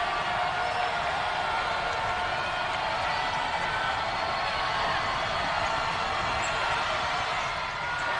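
A college basketball crowd at a UTRGV versus New Mexico State game keeps up a steady, dense roar throughout, a continuous wash of noise in the arena with no clear breaks.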